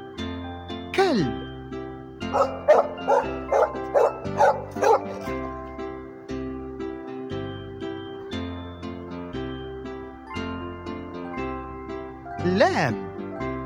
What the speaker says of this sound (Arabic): كلب